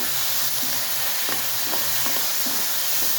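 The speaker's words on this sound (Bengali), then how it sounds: "এখন দিয়ে দিচ্ছি টমেটো সস এখানে সস বেশি দিলেও ভালো লাগে ভালো করে মিশতে নিচ্ছি" Tomato sauce stirred into a sizzling garlic mushroom dish, a dense steady frying hiss with a handful of soft spatula scrapes, close and alone.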